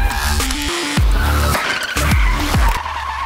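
A Hyundai Genesis drifting and spinning, with loud close tire squeals and skids that rise and fall in repeated bursts over a roaring engine.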